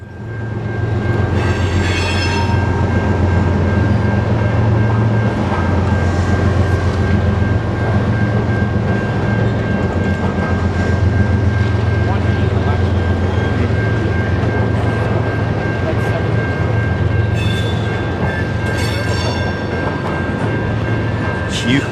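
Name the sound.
freight train passing at Pine Junction, Gary, Indiana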